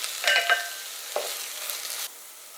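A spoon stirs onion, minced garlic and tomato paste in a pot, giving a few close scraping strokes over a soft sizzle before fading out, with no talking.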